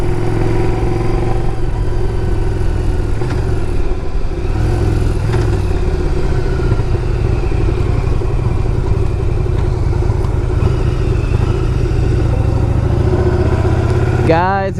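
A 2001 Yamaha V Star 1100 cruiser motorcycle on a test ride, its engine droning loud and steady with a low rumble and wind buffeting throughout, then a brief rev at the very end.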